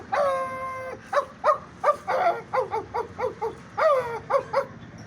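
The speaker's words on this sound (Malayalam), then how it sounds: "എൻ്റെ ഈ ചെറിയ നായക്കുട്ടീൻ്റെ ഒരു സൗണ്ട്" A small puppy barking close up, a quick series of about a dozen high, sharp yips and barks, the first drawn out into a whine, in a fairly quiet setting.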